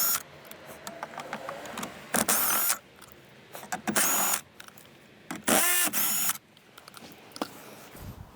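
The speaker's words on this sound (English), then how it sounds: "let's remove these 10mm bolts" Ratchet or driver bursts loosen four 10mm bolts from the center console of a Lexus IS, coming as short, loud whirring spurts with quieter clicks and handling noise between them.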